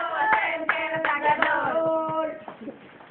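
Children clap their hands in a steady rhythm while singing together, the claps crisp and regular beneath the young voices.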